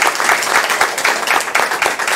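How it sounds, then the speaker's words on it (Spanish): An audience applauds a student team at a school competition award ceremony held by an electric cooperative in Salto, with a short burst of loud, close, dense clapping from many people. "Un aplauso."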